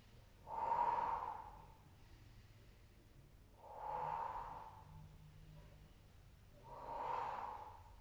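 Slow, steady breaths during a postpartum abdominal rehab exercise, three soft airy exhales spaced a few seconds apart, close and quiet with no talking.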